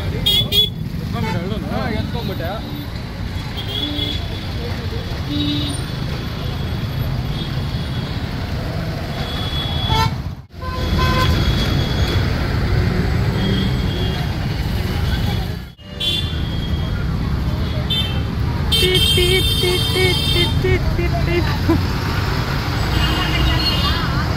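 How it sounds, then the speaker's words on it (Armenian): Busy street traffic rumbles continuously with passing cars, buses and motorbikes, and a car horn toots sharply near the end; a person talks over the road noise. "Ով ինչ սիգնալումի օգտագործում է"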